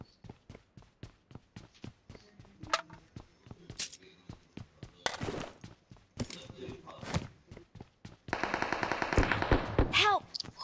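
Rapid gunfire from the mobile battle-royale game BGMI, a long run of evenly spaced shots followed by denser bursts and clatter near the end, with faint talk underneath.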